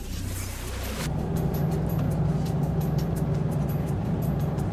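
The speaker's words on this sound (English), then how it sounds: "Hey, a car!" A car approaches and rolls past nearby, its engine rumbling steadily as the sound rises and then holds over a windy background.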